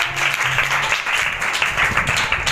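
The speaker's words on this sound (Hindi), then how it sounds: "हम जिंदा खुदावंद के लिए जोरदार तालियां बजाएं।" A church congregation at a Feast of Tabernacles (Sukkot) gathering claps together in a sustained, dense burst of applause that carries steadily for a couple of seconds.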